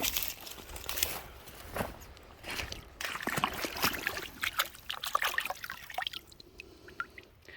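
Water trickles and splashes while rinsing off an object outdoors on Mount St. Helens, a close, uneven dribble with small sloshes and a few scattered knocks, steady for several seconds before thinning out.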